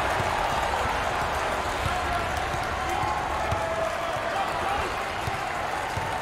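A large crowd at the 2021 America East Conference championship college basketball game between Vermont and New Hampshire roars and cheers in a steady, loud wash. Sneaker squeaks and ball bounces are faintly audible underneath.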